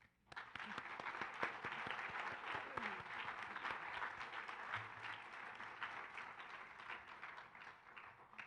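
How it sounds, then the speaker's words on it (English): Audience at a League of Women Voters candidates forum applauding the candidates, a dense, steady round of clapping from a sizable room that starts abruptly and holds at even strength for several seconds with no talk. "So let's give them a round of applause."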